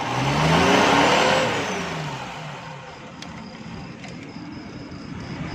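A Suzuki Bolan engine with timing problems, converted from points to magnetic ignition, revs up loudly, its pitch sweeping higher then easing back down to a steady rumble.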